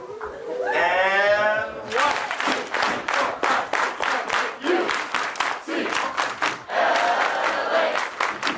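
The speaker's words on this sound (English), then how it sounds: "Let's get one more A clap going up." A university lecture-hall crowd chants and claps out a rhythmic UCLA cheer, a drawn-out vocal shout followed by a series of sharp, evenly spaced group claps and a final burst of clapping and yelling.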